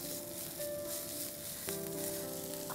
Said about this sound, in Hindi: प्याज को हमें पूरी तरह ब्राउन कर लेना है।